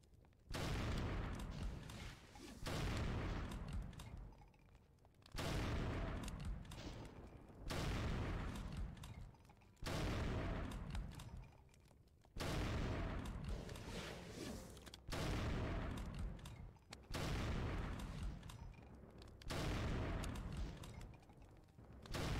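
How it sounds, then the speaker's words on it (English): Repeated bursts of gunfire from the video game Brutal Doom, set in the Memento Mori map, come in about nine loud volleys separated by brief pauses, each dense and booming with no talk. "It's quite a few shots to kill those guys."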